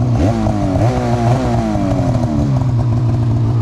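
A snowmobile engine fitted with BoonDocker go-fast parts revs hard and close, its pitch sweeping up and falling back in quick repeated pulls, a slight rasp riding over the loud steady drone.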